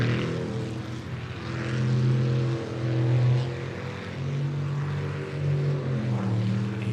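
At a sprint boat race, a racing boat's engine roars at full throttle, a loud, droning tone that swells and eases as the revs rise and fall, with no talk over it.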